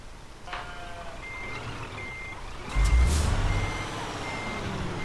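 A truck with a trailer reversing in Euro Truck Simulator 2, its backup alarm repeating evenly spaced beeps over a low engine rumble, with a sharp air-brake hiss partway through.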